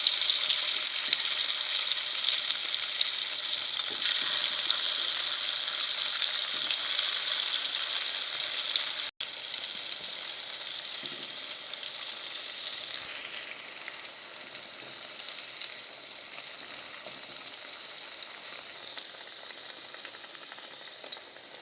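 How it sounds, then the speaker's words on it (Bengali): Semolina sweets (sujir chitrakut) fry in hot white oil mixed with ghee, giving a loud, even sizzle that runs unbroken for the whole stretch with no talking. "তেলটা গরম হয়ে গেছে, এখন আমি এগুলো আস্তে আস্তে ছেড়ে দেবো।"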